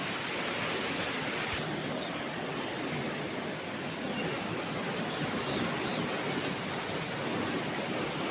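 A full irrigation canal on the Botad branch rushes steadily, broad constant roar of flowing water with some wind buffeting, no voices.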